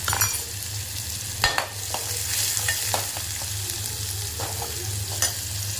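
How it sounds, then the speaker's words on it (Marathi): Onion sautéing in a pan for a potato curry, a steady sizzle with spoon scrapes and clinks as it is stirred, close by over a low hum. "कांदा म्हणजे कांदा आपण व्यवस्थित परतून घेऊया"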